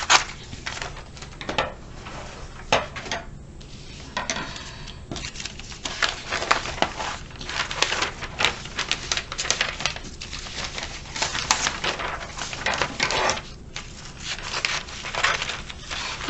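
Scissors cut through a sheet of newspaper in a run of close, crisp snips and rustling paper crinkles, irregular and repeated over a long stretch with no talking.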